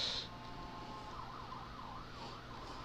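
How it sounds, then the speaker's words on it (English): An ambulance siren wails past in a steady rising and falling pattern, moderately distant, over low street rumble with no talking. "Here, ambulance."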